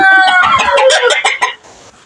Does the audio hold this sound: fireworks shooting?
no